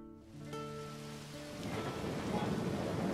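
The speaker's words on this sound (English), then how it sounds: "the rumble of thunder drowned out our teacher's reply, and it immediately began raining" A steady rain hiss swells and thickens with a low rolling rumble of thunder in a visual-novel style game, rising after a brief held musical tone fades out.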